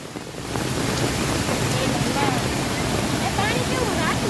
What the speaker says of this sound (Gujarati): આ ચેક ડેમ છે ને બાજુમાં એમાં છે પાણીનો વધારો થઈ ગયો છે